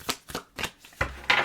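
Tarot cards being shuffled by hand in short riffling bursts, about five quick close-up rustles in a row, crisp and fairly loud with no talking.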